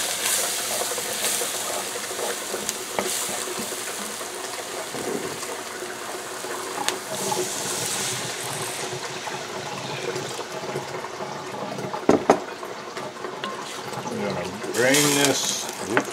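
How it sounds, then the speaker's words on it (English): Water pours and splashes steadily into a cast iron pot of Cajun shrimp stew up close for a long stretch, with some clinking and a voice speaking now and then. "then we're going to add in some water."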